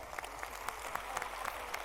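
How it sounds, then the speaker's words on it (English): A conference audience applauds mayors at a forum, a brief soft patter of clapping at moderate distance over a low hum. "Please give all the mayors a round of applause."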